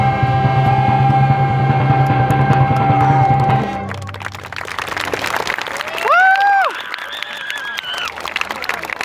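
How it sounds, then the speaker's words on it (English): A crowd applauds veterans at a Veterans Day gathering: after a few seconds of steady music, dense clapping breaks out, joined by scattered whoops and cheering voices, loud and close. "Let's give them one more round of applause."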